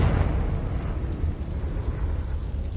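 Confringo blast spell from a Harry Potter video game, a sustained low, rumbling explosion that roars steadily throughout with dense crackling debris, loud and close.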